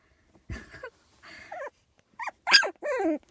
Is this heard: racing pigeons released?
no